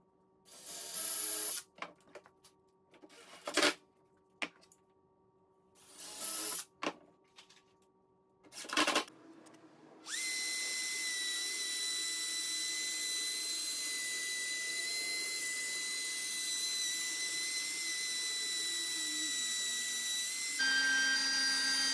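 Short bursts of a drill driving 1.25-inch screws into backer board while building pilasters, then a long steady high-pitched whine from a power tool, close and moderately loud with no talk.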